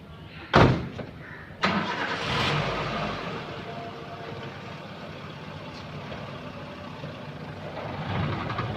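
A car engine cranks with a sharp burst, catches on a second attempt and settles into a steady close idle that swells slightly at the end.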